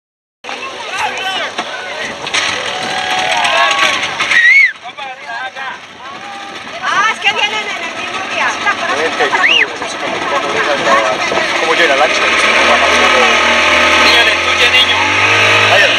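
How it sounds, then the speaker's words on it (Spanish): A motor launch (lancha) runs steadily through a boat ride at Coveñas, its engine droning under wind and near, excited talk, with a deeper low rumble building toward the end. "Claro, el gusano. La lancha."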